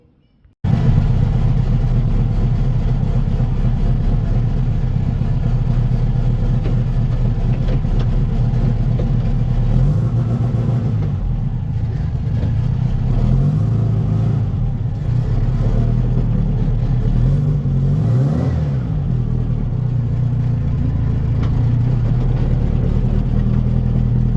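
A turbocharged 1916cc VW Beetle set up as a low bug drives along with its engine running loud and constant throughout, the pitch rising and falling as it revs.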